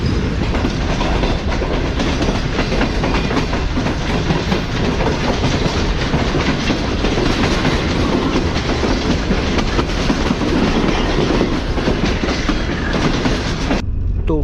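Tezgam express train running at speed past Bin Qasim station on the Karachi to Rawalpindi route, a loud continuous rumble with rhythmic clickety-clack from the wheels, heard from inside and steady throughout until an abrupt drop at the end.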